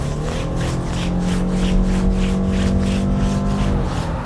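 A Subaru Impreza's 2-liter naturally aspirated boxer four-cylinder engine drones steadily as it accelerates flat out, its tone holding a strained, even whine with a soft rhythmic pulsing throughout, close and fairly loud.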